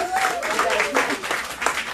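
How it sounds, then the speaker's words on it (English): A crowd at a women's conference applauds continuously, a dense wash of clapping at steady loudness, with some voices mixed in. "All right, everyone give Pia another round of applause."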